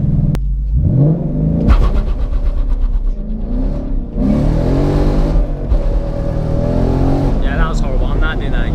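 A Ford Mustang 5.0 launching hard with its tyres spinning, the engine revving and climbing loudly up close while people talk over it.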